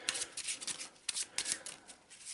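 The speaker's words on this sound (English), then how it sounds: "We'll give it a quick shuffle." A deck of cards from the board game Eldritch Horror is shuffled by hand, a quick close riffle of papery flutters and snaps in irregular bursts, without speech.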